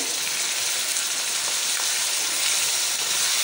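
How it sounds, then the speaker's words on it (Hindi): Minced keema fries with onion, garlic and ginger in a hot pan, throwing off a loud, dense, continuous sizzle that stays even from start to finish, with no talking. "अब हम प्याज और लहसुन अदरक के साथ कीमे को पकाएंगे।"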